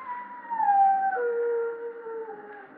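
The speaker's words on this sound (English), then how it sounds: "Means someone's going to die when a dog howls like that." A dog howls in long, wavering, mournful tones that slide downward and then hold, close and loud against a hushed background inside a gloomy old house, as heard in a vintage radio drama.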